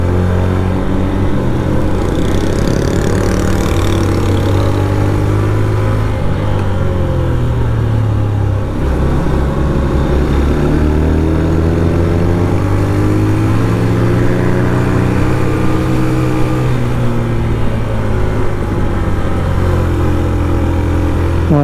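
Honda CB 150F motorcycle engine, a 2021 model, pulling steadily uphill on a hill road, a loud continuous drone whose pitch rises and falls with throttle changes throughout, close to the rider with no talk.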